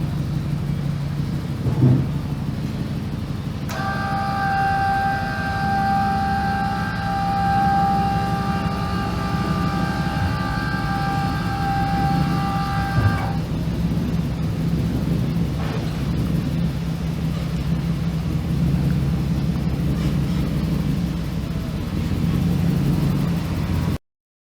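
A pickup truck engine idles and rumbles steadily while the truck is maneuvered to hitch an RV on blacktop, with a sustained tonal whine partway through and occasional knocks and clunks.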